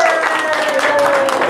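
Applause at a golden wedding anniversary celebration as a relative is invited onto the stage, a dense wash of clapping with music and a sustained tone playing along, close and loud.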